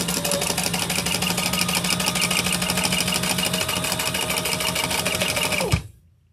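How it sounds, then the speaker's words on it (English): Sewing machine stitching along the straight edge of a beach tote, a fast, even, close mechanical chatter running steadily for several seconds before stopping abruptly with a thunk, with no talking. "now we're just going to sew along this straight edge"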